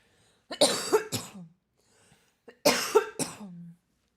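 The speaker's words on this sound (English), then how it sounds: "first I have to cough" Two harsh coughing fits, each a quick burst of two or three coughs, with a short pause between them, close and fairly loud.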